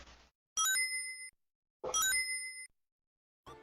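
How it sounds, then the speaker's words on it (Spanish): Two bright chiming pickup jingles of Sonic grabbing rings in a Sonic video game, each a quick rising run of ringing tones that hangs briefly, with short noisy bursts before and after. "sonido de cuando Sonic agarra los anillos."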